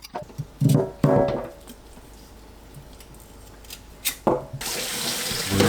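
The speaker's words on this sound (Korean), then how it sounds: "물로 씻어주세요." A scraped burdock root is rinsed under a running kitchen tap: short splashing bursts of water give way to a steady, close, loud flow into the sink, with no voices.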